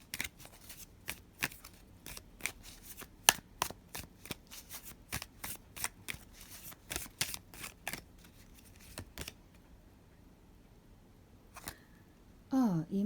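Oracle cards are shuffled and handled in a run of quick, crisp riffling snaps and taps, close and irregular, then a pause, a final card slap and a short stretch of voice.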